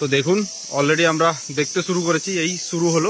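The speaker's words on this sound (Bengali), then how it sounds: "কানে একটা ঝিঝি পোকার ডাক সবসময় বাজছিল" Crickets chirp in the hills of Meghalaya as a faint, steady high drone, largely buried beneath a person talking throughout.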